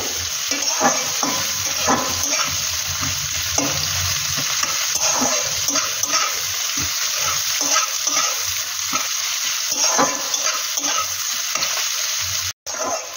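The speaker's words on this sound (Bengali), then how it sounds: "পেঁয়াজটা যখন অল্প একটু ভাজা ভাজা হয়ে যাবে, আমি এতে এই যে এইটুকু একটু চিনি দিয়ে দেবো।" Sliced onion for a meat curry fries in a pan, giving a continuous loud sizzle broken up by frequent scraping stirs from a spatula, with only a brief drop-out near the end.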